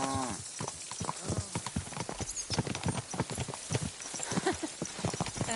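Horse hooves clip-clop steadily at a walking pace in Kingdom Come Deliverance 2, a cheap nag plodding along close by. The beat is busy and layered, with a voice talking over it now and then.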